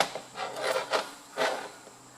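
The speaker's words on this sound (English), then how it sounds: "slide your feeler gauge through." A feeler gauge rubs and slides between the contact points of a Ferguson TED20 tractor's ignition, giving a few soft, close scraping strokes with brief pauses between them.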